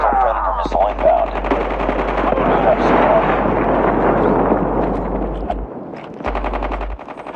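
Rapid, continuous automatic fire from a sentry gun in the mobile shooter Call of Duty Mobile, loud and dense for most of the stretch, then breaking into short bursts near the end, with game voice callouts mixed in.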